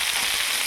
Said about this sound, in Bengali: দিয়ে আমরা হালকা করে এটা একটু ভেজে নেব